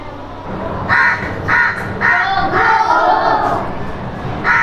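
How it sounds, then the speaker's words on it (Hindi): A recorded crow caws loudly and close, a series of harsh, evenly spaced calls repeating about five times in a rhythmic run. "क्रो का, किसका है, क्रो का"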